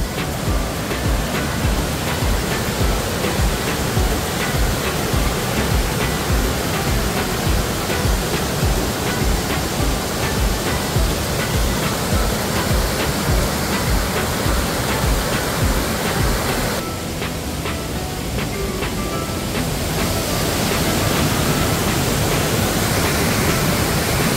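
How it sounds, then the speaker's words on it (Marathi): Waterfall at Dhutpapeshwar temple in Rajapur, a steady, loud, dense roar of falling water heard close and continuous throughout, with no voices. "आपण पाहत आहात ज्योतिबापेश्वरचा प्रसिद्ध धबधबा"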